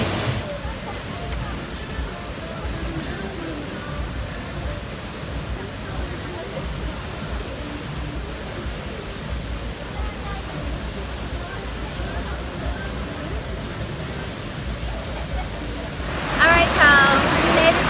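Waterfall in Bali on a hot day, a broad steady rush of falling water heard close and continuous, with a louder surge near the end.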